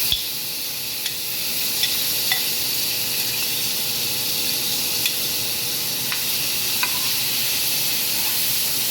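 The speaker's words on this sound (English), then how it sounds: "I'm about to saute some mushrooms to add to our ground beef." Sliced crimini mushrooms sauté in a pan with a strong, steady sizzle and hiss, broken by a few sharp utensil clicks, close and loud with no talking.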